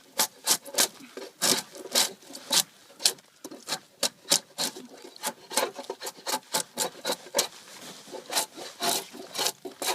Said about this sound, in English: finishing peeling this log